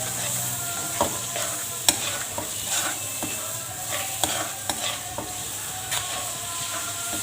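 Prawn karahi being stirred in a frying pan of oil, a steady close sizzle broken by scattered scrapes and clicks of the spoon against the metal.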